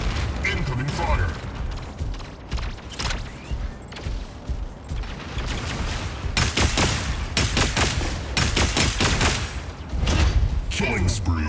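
Bursts of rapid gunfire and booming weapon blasts from mech combat in the Mech Arena video game, loud and dense throughout, with short automated voice callouts over the shooting.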